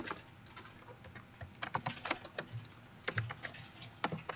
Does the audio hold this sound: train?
no